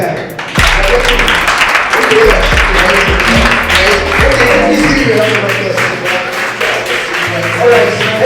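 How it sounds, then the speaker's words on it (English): Students and guests applaud at a school career day, a loud round of clapping with some sharp close taps, while voices talk over it and low tonal sounds run underneath. "Round of applause."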